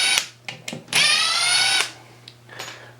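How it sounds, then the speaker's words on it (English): Ryobi P238 three-speed impact driver driving a screw on low speed: several short bursts, then a loud sustained whir of about a second, then fainter spurts, close and alone with a steady low hum beneath. "it drills almost the whole way in, then hammers the last little bit."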